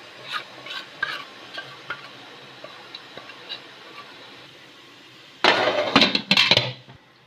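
A spoon stirs idli batter in a bowl with soft, irregular scraping taps, then a louder burst of quick, rough stirring strokes near the end.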